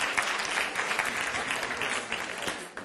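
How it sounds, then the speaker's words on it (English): Audience applause at a business talk on work-life balance, a steady wash of clapping across the whole stretch at moderate volume with no speech over it. "Do I hear a round of applause on that?"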